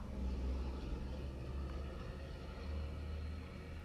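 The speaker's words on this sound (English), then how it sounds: "There's a dump truck driving by." A dump truck drives past outdoors, a steady low engine rumble that swells and eases over a few seconds, fairly close and continuous, with no talking.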